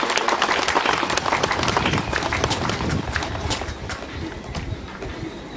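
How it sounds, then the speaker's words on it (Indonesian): Applause from a church congregation during the welcome of the Archbishop of Larantuka at a confirmation service in St. Lodovikus parish, a steady dense patter of many hands, loud and continuous, with a faint voice underneath. "tepuk tangan tepuk tangan"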